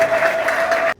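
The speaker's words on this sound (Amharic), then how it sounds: "ለእግዚአብሔር ክብር አጨብጭቡለት።" A church congregation claps together for God's glory, loud and sustained, a thick roar of hands that stops abruptly.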